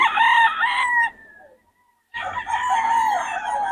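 A stag rooster crows loudly and close by, two full cock-a-doodle-doo calls separated by a short silence, with no voices over them.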